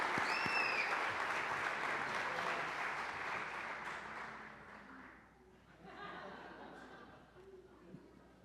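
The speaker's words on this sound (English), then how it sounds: "Let's give this group a round of applause" Audience applause at an awards celebration honoring 30-year service staff, steady dense clapping from a crowd that gradually thins and fades, with faint chatter and murmuring beneath as it tapers off.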